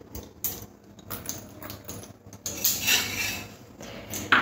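Dry chana dal pours into an empty wok for roasting, giving a light scattered patter and rattle of grains on metal, with a brighter clatter in the middle.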